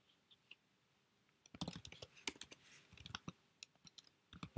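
Typing on a computer keyboard at a desk, a quiet scattered run of clicks that turns into a denser burst of keystrokes, close and soft with no speech.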